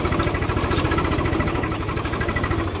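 A Swaraj tractor engine idles close by on a muddy farm after rain, a loud, steady low diesel chugging with an even, rapid pulse and no talking.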